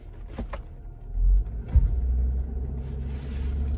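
Jeep Wrangler 4xe engine being given gas during a winter recovery on snow, a low rumbling drone that swells and surges briefly with a sharp thump, then holds steady.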